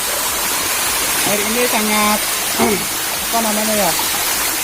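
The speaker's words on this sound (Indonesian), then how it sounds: "Dan di sini juga ada air yang mengalir, air terjun guys." A clear, natural waterfall of pure water pours steadily nearby, a constant loud hiss under a voice asking a brief question.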